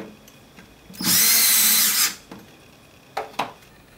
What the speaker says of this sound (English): You want to have the holes aligned with the screws and then fasten the three screws.